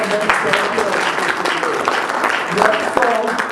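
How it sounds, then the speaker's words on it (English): Audience members at an African jubilee commemoration clap for a guest from the Jamaican High Commission, the applause fairly close and lively, with voices and scattered cheers mixed in. "give her a round of applause"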